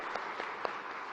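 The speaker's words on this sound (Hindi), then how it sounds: "तालियां बजाइए एक बार" An audience at a live public event with a state chief minister in Bhopal applauds, a soft, distant wash of clapping with a few sharper claps standing out.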